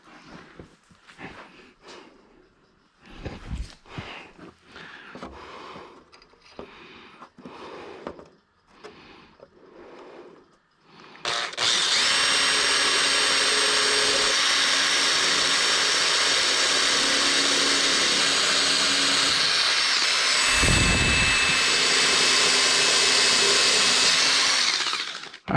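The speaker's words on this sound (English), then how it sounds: "All right, now got those 4 drilled." A power drill bores holes through a soft fiberglass bicycle fender. Scattered handling clicks come first, then the drill whirs loudly and steadily at close range for about fourteen seconds with one brief dip.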